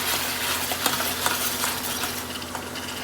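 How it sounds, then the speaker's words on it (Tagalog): Tomatoes with onion and garlic being stirred in a cooking pan, a continuous close sizzle with irregular scraping and tapping of the spoon against the pan. "Now, mix na natin."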